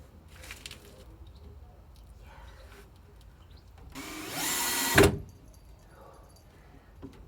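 Power drill driving a screw into a timber boat frame, one short loud whir of about a second after quieter handling knocks and clatter.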